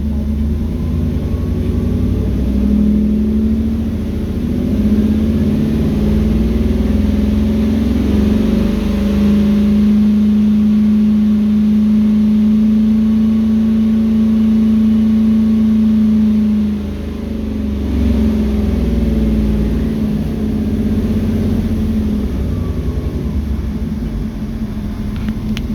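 An automatic Triumph Stag Mark 1 with a BW35 gearbox revs its engine toward 4,000 RPM and holds it, a loud, sustained close-up drone that rises and steadies before dropping back briefly and climbing again.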